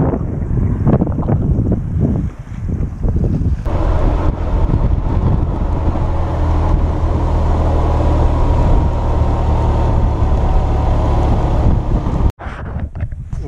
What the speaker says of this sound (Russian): Сегодня очень ветрено